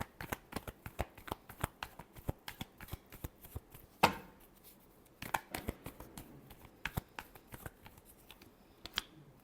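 Tarot cards being shuffled by hand, a quick irregular run of soft riffling snaps and flutters, close and fairly quiet, with one sharper slap partway through.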